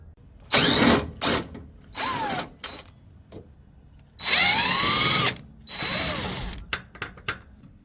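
Close, loud bursts of a whirring power tool with ratcheting clicks removing hidden 10 mm bolts in the taillight area of a 2002 Toyota MR2 Spyder during muffler replacement, several spins separated by short pauses.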